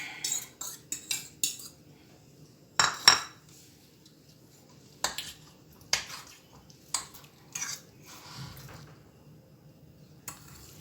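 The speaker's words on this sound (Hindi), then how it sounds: "अब हम चीज़ को और ग्रीन सब्ज़ धनिया को आपस में मिक्स कर लेते हैं।" Cheese and chopped green coriander are mixed in a bowl, giving sparse metal clinks and scrapes of a utensil against the dish, close by, with quiet gaps between strokes and no speech.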